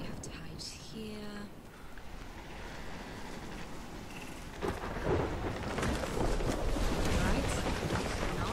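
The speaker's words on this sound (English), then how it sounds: "I've never seen a storm like this in Oregon." Thunderstorm with heavy rain in the Life is Strange video game, a steady wash of rainfall swelling into a louder, rumbling roar partway through, with voices briefly heard over it near the start.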